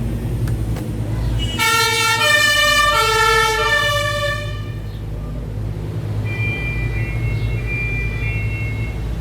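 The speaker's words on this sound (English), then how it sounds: "It's the old school fire brigade." Old-school fire engine siren sounding a repeating two-tone wail over steady loud road or engine rumble, the tones cutting off midway and leaving the rumble with faint distant tones.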